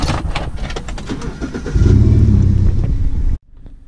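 Clicks and mechanical rattles give way to a BMW 1 Series engine turning over and rumbling into a low idle, which cuts off abruptly near the end.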